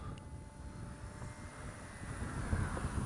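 A radio-controlled model propeller plane flying low drones steadily at a distance, its engine buzz holding fairly even with a slight swell toward the end.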